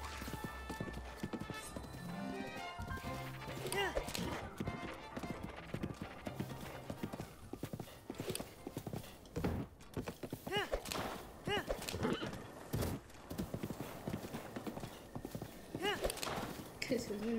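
In the video game Zelda Breath of the Wild, a horse clip-clops with rapid, steady hoofbeats and lets out neighs over a busy game soundscape, while someone talks excitedly throughout.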